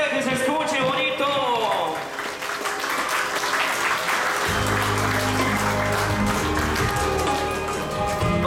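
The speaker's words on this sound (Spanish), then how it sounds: "Fuerte los aplausos, venga, que se escuche bonito." Guests at a quinceañera celebration in Columbus, Georgia applaud loudly and continuously, the clapping layered under a speaking voice and then joined by music.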